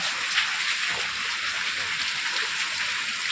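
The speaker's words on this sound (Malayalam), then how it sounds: "ഭയങ്കര മഴ" Heavy rain pours down steadily, a dense, unbroken hiss of drops striking surfaces nearby.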